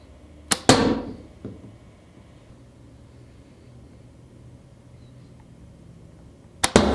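A pencil arrow is loosed from a homemade bamboo bow, a sharp snap and thud near the start, a long quiet stretch, then another crisp crack at the end.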